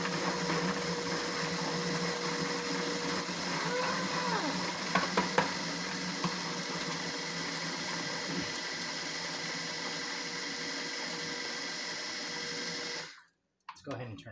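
A blender runs at low speed with a steady motor whir and tonal hum for about thirteen seconds, a voice speaking over it, before it cuts off abruptly.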